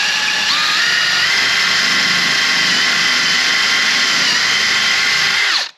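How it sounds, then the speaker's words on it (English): A power drill whines at high speed for several seconds, steady and loud, then winds down abruptly at the end. "We're gonna go ahead and drill this."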